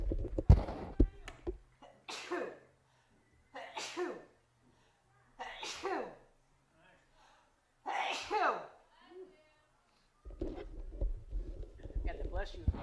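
A spectator sneezes in the stands at a high school sports game, one sharp burst at the start followed by a commentator's voice calling the play in short bursts.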